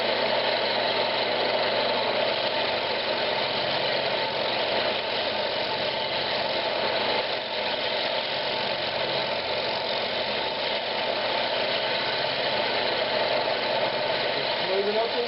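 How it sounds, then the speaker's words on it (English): A round nose scraper smooths the wall of a spalted pecan bowl turning on a wood lathe, giving a steady, loud humming drone mixed with a rough continuous scraping texture. "I'm just using a round nose scraper."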